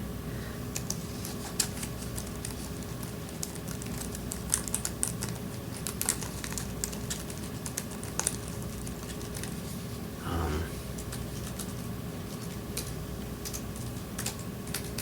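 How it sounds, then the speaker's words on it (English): A freshly unboxed computer keyboard is typed on in quick, light, irregular clicks and taps, faint and close in a quiet room. "you open it up, and oh, it's a keyboard"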